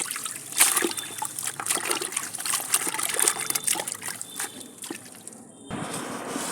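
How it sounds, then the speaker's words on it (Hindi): Clothes and a flower garland are being washed by hand in water, giving steady trickling, dripping and splashing at close range, with no clear talk. "कपड़े और फूलों की माला मैंने धो ली है"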